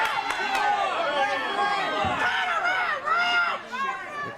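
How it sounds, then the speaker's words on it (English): Wrestling arena crowd booing and shouting at the referee, a steady loud roar of many voices with swelling jeers and whistles throughout. "The crowd does not like this referee very much."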